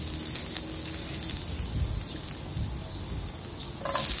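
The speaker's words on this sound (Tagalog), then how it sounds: "gisa lang natin yung ating bawang" Garlic sautéing in olive oil in a pan for garbanzos with egg, a soft, steady sizzle and light crackle running throughout at low volume, growing a bit brighter near the end.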